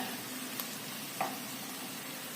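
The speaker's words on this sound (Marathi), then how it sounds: "आता मध्यम गॅसवरती हे छानसं परतून घ्यायचं आहे" Chopped potatoes, carrots, peas and other vegetables sauté in oil over medium heat for a dal khichdi, giving a soft, steady sizzle with two faint clinks partway through.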